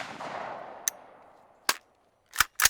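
An M1 Garand-style semi-automatic rifle firing outdoors, a faint shot at the start with a long decaying echo, followed by several sharp, loud cracks spaced unevenly as it cycles and ejects.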